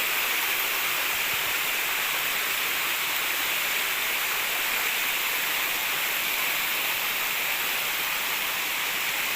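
Kuttupatti waterfall pours without pause, a loud, close, steady roar of falling water with no breaks and no voices.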